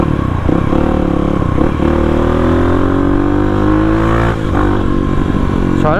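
A motorcycle engine revs hard and close, its pitch climbing steadily then dropping and surging again, loud and continuous with a rattly exhaust and no voices over it.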